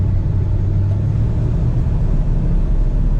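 Steady low engine rumble from inside a 1979 Dodge W150 4x4 pickup truck, a medium motor droning as it accelerates forward, with road noise underneath.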